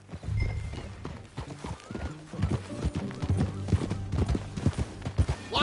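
A horse in the Red Dead video game clip-clops steadily at a gallop and whinnies, with the hoofbeats continuous and fairly close, and a brief bit of speech in the background.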